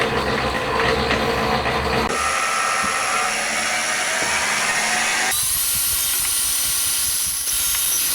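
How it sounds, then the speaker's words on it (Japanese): A power drill fitted with a center drill bores into a Honda Monkey engine cover, giving a loud, continuous high whine whose pitch changes in distinct steps as the cut progresses. "まずはセンタードリルから始めて、だんだん太いドリルに変更していきます。"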